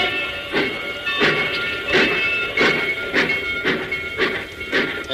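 A train arriving at a station, rolling along with a rhythmic clatter and hissing, the repeated bursts of noise coming at a steady pace, fairly close.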